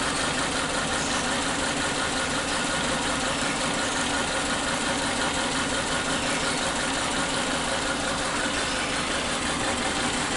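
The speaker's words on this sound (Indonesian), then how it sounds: "Ini meskipun kondisi mesin sudah panas itu tetap seperti ini, jadi memang aneh mesinnya." A warm Suzuki Katana engine with one dead, black, crusted spark plug idles roughly up close, a steady, loud mechanical drone with an uneven, shaking pulse and no talk.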